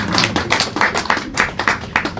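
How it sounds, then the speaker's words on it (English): An audience at a post-screening community discussion bursts into brisk applause, close and loud, with dense overlapping claps across the whole short burst and no voices over it. "So one round of applause for yourselves"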